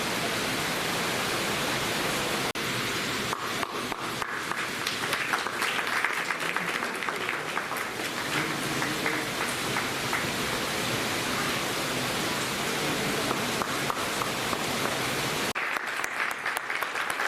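Theatre audience at a three-day drama festival in Tikamgarh applauding the performers after a play, a dense, steady wash of clapping that fills the room throughout, with a brief lull near the end.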